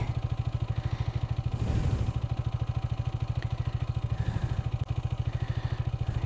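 A motorcycle rides along a slippery jungle road, its engine thumping in a close, steady, rapid rhythm with a brief swell of revving, and nobody speaks.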